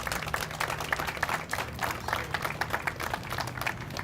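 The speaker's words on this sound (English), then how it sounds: "can we give every one of those a round of applause" An outdoor crowd claps at a grand opening ceremony, a continuous patter of many hands at moderate distance, with a low hum running underneath.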